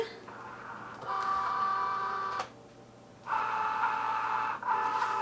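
A Cricut cutting machine loading a card mat gives two stretches of steady motorized whirring with a tonal hum, separated by a short quiet pause.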